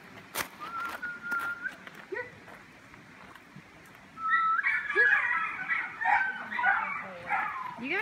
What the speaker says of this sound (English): You gotta use the whistle.